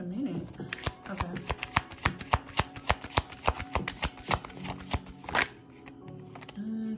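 Tarot cards are shuffled and drawn close up, a rapid series of crisp riffling snaps and flicks that slows and ends with a card being pulled, with faint background tones between.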